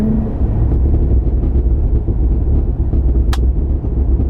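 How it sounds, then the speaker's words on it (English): A 2023 Cadillac Escalade-V in V mode on the interstate, its engine droning steadily under heavy road rumble with downshifts blending into the continuous cabin noise. "can you guys hear the downshifts on this thing?"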